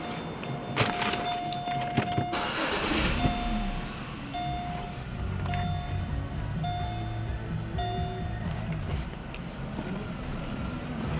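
Inside a used Chevrolet Malibu with 71,000 miles, a short burst of cranking and the engine catching is followed by a steady idle, while evenly spaced electronic chimes ring out over the running car.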